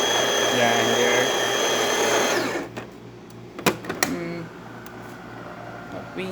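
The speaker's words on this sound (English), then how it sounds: "Grinder." A loud, steady motorized whir of a coffee grinder grinding beans beside a DeLonghi espresso machine runs for a couple of seconds, then cuts off, leaving quieter clatter and a few sharp knocks.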